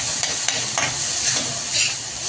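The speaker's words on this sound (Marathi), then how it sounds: "आता याच्यामध्ये आपण कट केलेली मेथी टाकून घ्यायची. थोडीशी फ्राय करायची" Chopped fenugreek (methi) leaves frying in a pan, an even close sizzle with light stirring taps and scrapes throughout, no speech.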